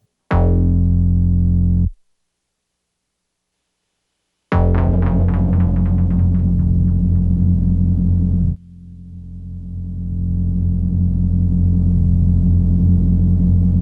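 Simple synth tone run through the Red Panda Raster effect pedal, loud sustained buzzing drones that cut off abruptly, return with a metallic sweep, then swell up again, with no one speaking.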